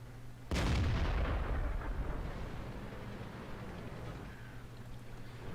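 A single loud M46 Patton tank cannon shot in a video game bursts out, then a long rumbling boom fades slowly over a steady low engine hum.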